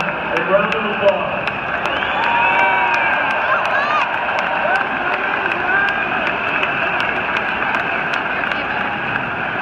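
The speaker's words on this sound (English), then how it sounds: "You certainly deserve a round of applause." A big stadium crowd at Wrigley Field applauds and cheers during the Cubs championship ring ceremony, a broad, continuous roar with scattered sharp claps and whistles that holds steady throughout.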